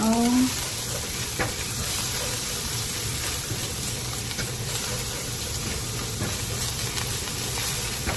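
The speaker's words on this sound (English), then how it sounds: "I will fry this till the aroma coming out already." Food sizzles and crackles steadily in a frying pan at home, a continuous close hiss with occasional stirring clatter, no voices.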